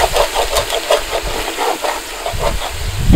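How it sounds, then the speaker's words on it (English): About half a cup of white wine hits a hot pan and sizzles loudly and steadily up close, a constant hiss with bubbling pulses as the bottom is deglazed, no voices. "Now we're going to add about half a cup of white wine."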